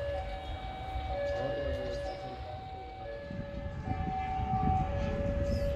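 A train pulling out of Ciroyom station toward Bandung, with steady low rumble, long sustained horn-like tones and rolling wheel noise heard from inside a carriage, with voices talking faintly along the way.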